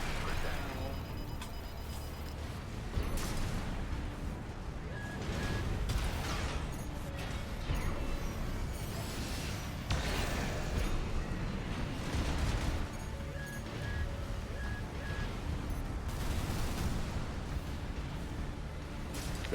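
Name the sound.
enemy cannons and mines exploding in video game Armored Core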